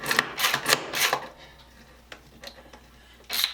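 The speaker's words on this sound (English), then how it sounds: "use a longer Yankee screwdriver for screws that have a lot of thread on them" A Yankee push screwdriver drives a 1 1/4 inch screw with a quick burst of ratcheting clacks and rattles, then scattered lighter clicks, then a final rattling push, all close up with no speech.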